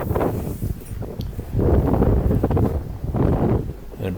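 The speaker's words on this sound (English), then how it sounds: "And a breeze blowing." Steady, gusty wind at a marina on the River Dart blows continuously and roars against the microphone, rising and falling in strength over a few seconds.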